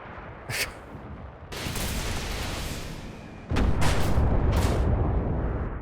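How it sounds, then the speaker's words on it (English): Rocket explosions in the World War II shooter game Enlisted: a sharp blast, then a long rolling roar that swells into a second heavy, louder detonation with crackling debris, all loud and close with no talk. "Somehow I killed myself by shooting rockets far ahead."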